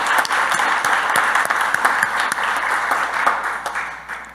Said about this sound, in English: I wanted to give her a huge round of applause